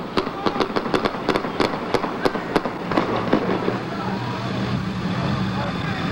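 A quick string of sharp gunshots from police firing during live street footage, about a dozen cracks in a rapid irregular burst that thins out, followed by a steady background rumble.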